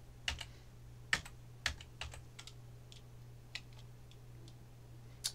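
Keys clatter on a computer keyboard alongside mouse clicks in a drafting program, a scattered series of crisp taps of uneven loudness, some sharper than others, fairly quiet over a low steady hum.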